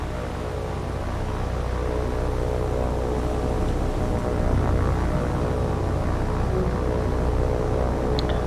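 Steady propeller drone of a World War II float plane in the naval game War on the Sea, a constant, even engine hum that holds at the same level throughout with no talking.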